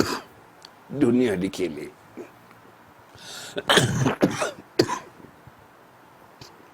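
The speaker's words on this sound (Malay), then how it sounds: "Minta maaf tuan-tuan, batuk sikit aja pagi ni." A man coughs and clears his throat a couple of times during a religious talk, the coughs close and fairly loud, followed by a short spoken phrase.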